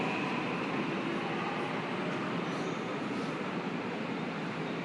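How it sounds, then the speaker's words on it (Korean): A subway train pulls into a station, heard as a loud, steady broadband roar and rumble that fills the whole stretch without letup. "지하철 들어오니까 너무 춥다"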